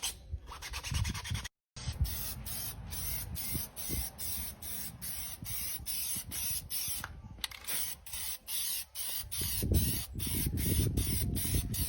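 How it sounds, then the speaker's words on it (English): Plasti Dip rubber coating sprayed from a can onto a costume armor piece, a series of close hissing bursts with short pauses between them and no speech. "you're going to plasti dip that one"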